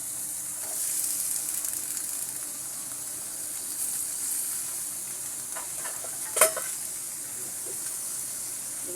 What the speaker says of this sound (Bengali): আমি মাছের মধ্যে এবার আলুগুলো দিয়ে দেব।